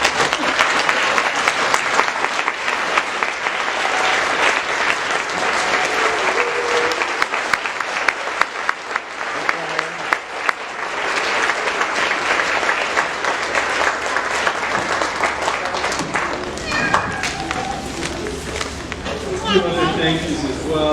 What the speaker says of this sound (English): So please stand and give her a round of applause.